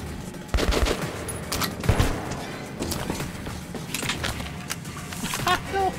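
Bursts of gunfire from a big gun in Metro Redux, rapid cracks and thuds spread across the stretch with heavier hits near the start, mixed under excited talking.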